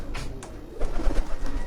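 Pigeons kept as a hobby coo in soft, low rounded calls, a few short coos near the start and a denser stretch later, over a steady low background rumble.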